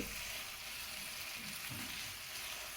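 Chicken pieces coated in spice paste cook down in a pan for a potato chicken curry, giving a soft, steady frying hiss that stays faint and even throughout, with no voices.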